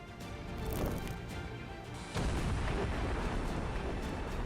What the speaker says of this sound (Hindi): तोपों से खार्कोव क्षेत्र के कुपियांस्क इलाके को निशाना बनाया जा रहा है।